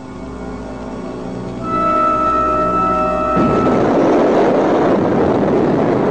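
Military aircraft pass overhead during a large army exercise, a steady droning engine that swells into a loud, broad roar as it comes close and stays dominant to the end.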